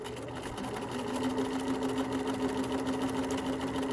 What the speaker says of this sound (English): trying to sew as accurately as possible on this blue line that I have